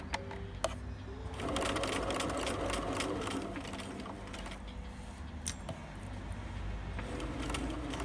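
A sewing machine stitches fabric for a Monster High Draculaura ragdoll plushie, running as a steady close mechanical whir after a brief start.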